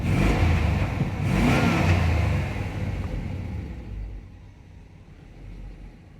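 The engine of a 1990s OBS Chevy Tahoe runs with a low rumble that is louder at first with a brief rev, then settles quieter toward a steady idle, with no voices.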